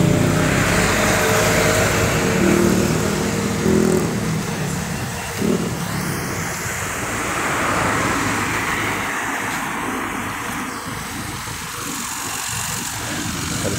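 Construction machine driven across a work site where crews are preparing a festival park, its engine a moderate continuous rumble amid general outdoor traffic-like noise.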